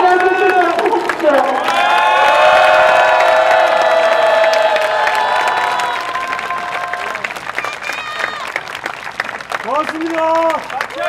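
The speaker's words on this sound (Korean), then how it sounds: "큰 환호성과 박수로 그분들이 달려주시도록 해주십시오" A large outdoor rally crowd at Gwanghwamun in Seoul cheers and applauds loudly, with sustained shouting and clapping, voices rising in a long roar before fading into scattered clapping and calls.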